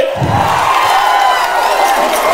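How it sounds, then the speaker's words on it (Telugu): A political rally crowd roars and cheers loudly, a sustained wash of shouting voices with a rising whoop running through it; individual handclaps are not distinct. "గట్టిగా చప్పట్లు కూడా చెప్పండి"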